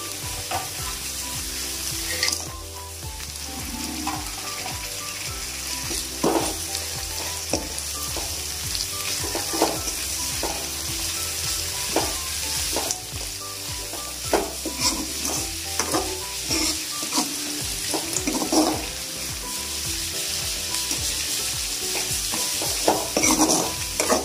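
Dried bommidai fish added to a pan of curry, frying with a constant loud sizzle while a spoon stirs and scrapes against the pan in irregular strokes, without talk.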